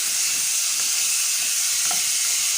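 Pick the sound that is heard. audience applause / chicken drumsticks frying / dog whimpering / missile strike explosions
chicken drumsticks frying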